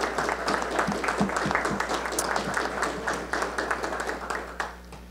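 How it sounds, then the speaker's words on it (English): An audience applauds steadily at a county budget presentation, with dense clapping that holds strong before thinning out near the end. "Let's give them a round of applause."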